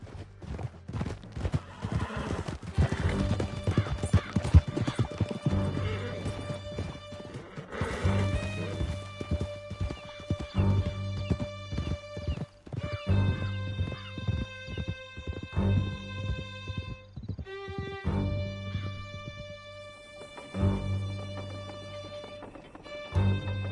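Horses galloping in Red Dead Redemption 2 during a fast escape ride through a canyon: continuous rhythmic clip-clop of hooves with repeated loud neighs and whinnies, close and prominent throughout.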